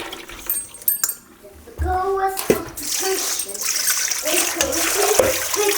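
Tap water splashes and runs steadily into a bowl as soya beans are rinsed, with brief clinks and a voice talking over the close, continuous stream.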